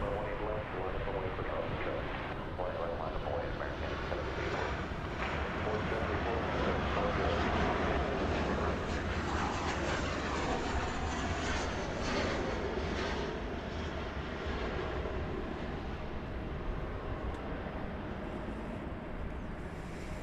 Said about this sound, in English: It's a 777-300, which is almost an 11-hour flight today.